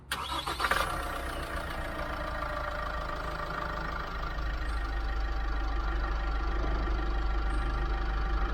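An LDV G10 van engine cranks and fires with a short burst, then settles into a steady, low, rumbling idle that holds close and even throughout.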